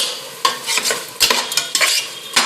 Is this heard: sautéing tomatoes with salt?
yes